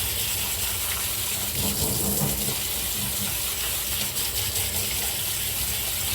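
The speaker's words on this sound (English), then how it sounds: "Now drain and rinse the canned beans." Drained canned beans are rinsed under a running tap, a continuous close gush of water splashing steadily with no pauses and no voices.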